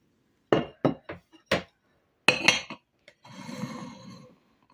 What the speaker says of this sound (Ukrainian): Тепер беру тарілку ставлю на неї баночку.